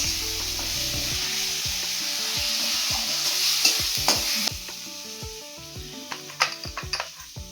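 Coriander powder frying in hot oil for an egg do pyaza, a bright continuous sizzle with frequent close stirring scrapes and light clinks against the pan, loud at first and easing slightly toward the end.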